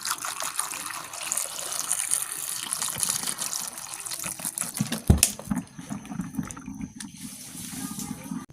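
Vegetables, including eggplant, are rinsed under running water, a steady close splash and gush with a louder splash midway, while someone talks nearby.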